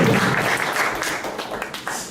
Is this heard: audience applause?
yes